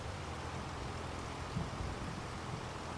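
Rain in the video game Farming Simulator 25, a constant broadband hiss of falling rain with a couple of soft low thumps midway, steady and alone.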